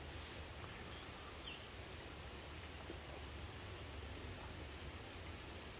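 Steady rain falls outdoors on a chilly evening, a continuous even hiss of drops that holds at a moderate level for the whole stretch, with no one talking.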